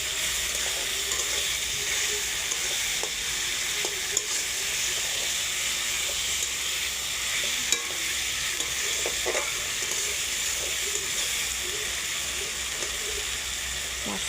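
Ita fish curry with potatoes simmering and sizzling in a pan, a steady soft frying hiss throughout with occasional small stirring clicks, close and moderately quiet.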